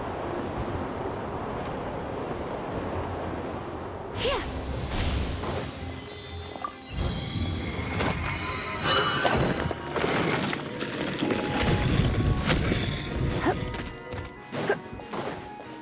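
A gusty whoosh of wind and crashing impacts from riding a wind current in Genshin Impact, loud and continuous, with swelling rushes and sharp hits layered over game music and ambience.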